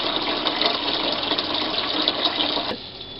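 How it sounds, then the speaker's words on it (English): Pumps drawing water out of a block ice maker tank, a steady rushing, gushing flow close by that cuts off abruptly near the end, leaving a quieter hum. "now that you've finished pumping all the water out"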